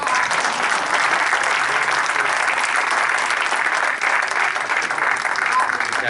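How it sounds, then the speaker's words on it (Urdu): Steady, dense audience applause fills a literary evening hall, even and sustained throughout with no break, heard from within the crowd. "ذرا تالیاں ایک بار اور ہوں۔"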